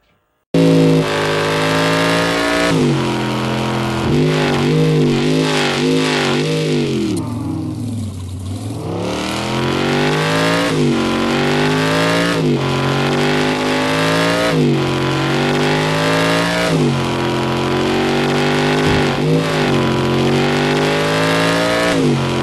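A car in a video game revs hard and continuously, its engine pitch dropping as it slides, then climbing again through repeated gear shifts and throttle bursts.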